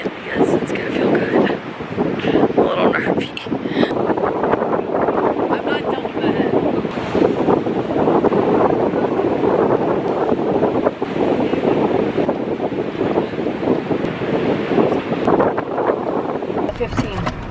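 Cold ocean surf and gusting wind at a beach, a loud continuous roar of breaking waves mixed with heavy wind buffeting against the microphone.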